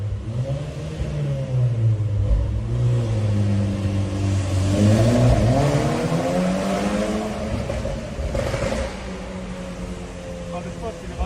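A Volkswagen Golf 6 R revs hard and accelerates, its engine note climbing and falling in loud, close, sustained pulls over about eleven seconds, with voices faintly present.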